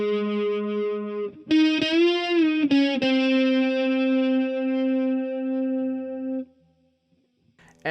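Distorted electric guitar plays a phrase from a solo: a held note, then a bend and sustained wavering lead tone ringing for several seconds before cutting off, close and loud.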